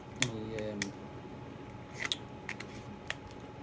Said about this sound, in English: this one here that I'm taking the back off